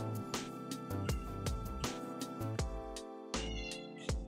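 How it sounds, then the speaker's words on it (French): Insistent, loud cat meowing, one drawn-out cry after another in a steady run, close by with no talking. "Mon chat fait des scandales dès qu'il a faim."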